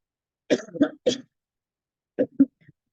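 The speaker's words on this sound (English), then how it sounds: "Sorry for the cough." Several sharp coughs in two clusters, close and fairly loud, the first a quick run of three bursts and the second a pair of shorter coughs with a faint throaty trailing sound, separated by silence.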